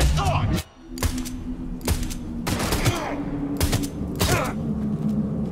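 Bursts of machine-gun fire in the video game Cyberpunk 2077, five or six loud rapid volleys separated by short pauses, with mechanical clicks and game ambience between them.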